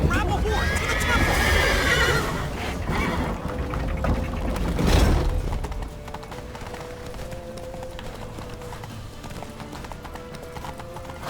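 A horse whinnies loudly amid rapid hoofbeats clattering along, with shouting voices and busy action around it in The Witcher 3 before the gallop settles into steady clip-clop.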